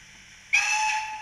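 Short toot from the steam whistle of an ESU BR 94 model tank locomotive, number 94 1292 "Rennsteighirsch", a single clear, loud blast about three-quarters of a second long with a hissy edge, cutting in sharply and standing alone.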